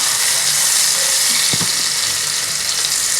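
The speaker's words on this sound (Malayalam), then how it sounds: "ഹൈ ഫ്ലെയിമിൽ തന്നെ നമുക്കിതൊന്ന് ഇളക്കിയെടുക്കണം." Button mushrooms sizzle hard over a high flame in a kadai. A steady, loud frying hiss carries throughout, with a brief scrape of stirring near the middle.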